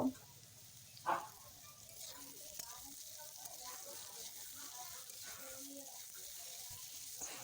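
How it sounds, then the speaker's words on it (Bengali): Onions frying in hot oil together with already browned potatoes give a soft, steady sizzle, with two brief clatters near the start before the even frying hiss settles in. "পেঁয়াজগুলো ভালোভাবে ভেজে নেব।"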